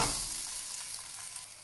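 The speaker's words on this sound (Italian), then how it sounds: "Buttiamo le nostre patate viola in pentola." Purple potatoes sizzling as they drop into a pot of hot olive oil with crushed garlic, a steady bright frying hiss close by and alone.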